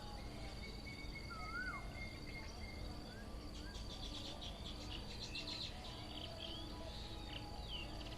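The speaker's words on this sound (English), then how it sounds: "hopefully you can hear all the birds." Birds chirp and call here and there against a steady outdoor background full of insect buzz, with no talking.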